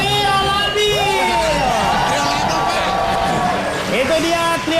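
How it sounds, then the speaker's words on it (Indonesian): A studio audience at an Indonesian comedy show erupts in loud, continuous cheering, whoops and yells mixed with crowd babble, sustained throughout. "Tepuk tangan kalian untuk Trio Labil."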